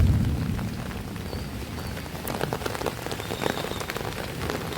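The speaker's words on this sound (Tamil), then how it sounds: "It is not raining now, it is pouring now." Heavy rain pours down during a thunderstorm in Bangalore, a dense, continuous hiss of drops hitting surfaces, loudest at the start and then holding steady, with scattered sharper splashes and no speech.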